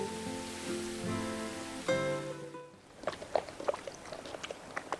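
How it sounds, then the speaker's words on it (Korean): Water trickles and patters from a stream in a deep, snowy mountain valley near a hot spring, faint and close, with scattered drips; a soft tonal melody plays before the water sound comes in. "계곡물 흐르는 소리와 바람 소리만이 들리는 이곳에서의 하룻밤이"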